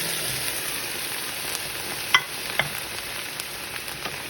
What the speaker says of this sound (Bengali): আমি এবার পুরো ডালটাকে ঢেলে দিলাম